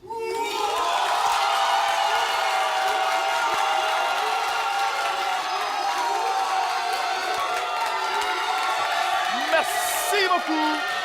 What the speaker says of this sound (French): Ce micro entend tout ce que vous allez dire en applaudissements et en cris